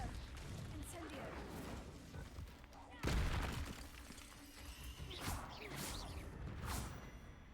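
Confringo and Incendio spell blasts in the Hogwarts Legacy video game, several sharp bursts and whooshing impacts about two seconds apart, heard faintly beneath a player's talk.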